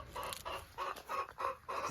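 Backyard laying hens cluck in a steady, repeating series of short, close bursts, with a little farmyard ambience between them.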